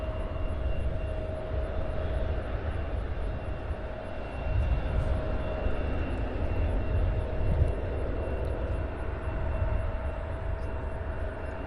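A Boeing 777 airliner at Cincinnati airport, a continuous broad jet roar with a faint steady whine, swelling slightly midway and holding at a constant distance, no voices.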